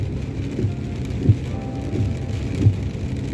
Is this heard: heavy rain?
yes